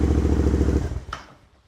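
A Royal Enfield Interceptor 650 motorcycle idles with a steady low engine rumble, then is switched off, the sound cutting out and dying away within about a second, followed by near silence.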